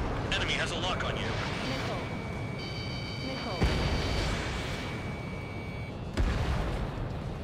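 Missiles and explosions in the flight combat game Ace Combat 7, a continuous loud roar of jet and weapon noise with sharp blasts and tonal lock-on warning beeps, heavy throughout.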